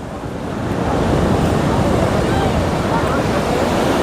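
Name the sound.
ocean waves at Juhu beach at high tide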